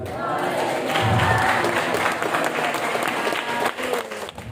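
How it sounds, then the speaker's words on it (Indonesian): Fellow students applaud at the close of a session at an IMM student orientation event, a lively crowd clapping with voices mixed in, strongest early and thinning slightly toward the end. "akhirnya sesi saya ditutup dengan tepuk tangan dan meriah dari teman-teman"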